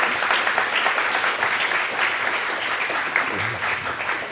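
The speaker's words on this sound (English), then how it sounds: "Give them a round of applause." Sustained applause from an audience at a panel event on ethics in autonomous vehicles, steady dense clapping throughout at moderate-to-loud level with no talk over it.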